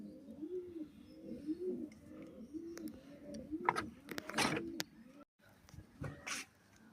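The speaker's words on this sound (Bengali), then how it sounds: "এটা উঠছিল, এটা মাদি পায়রা।" Female pigeon cooing softly in repeated rounded phrases, close but quiet, with a few sharper clicks and rustles near the end.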